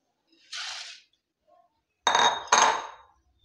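Pots and a pressure cooker being handled while cooking horse gram, giving a soft clatter and then two sharp, close metallic clinks in quick succession.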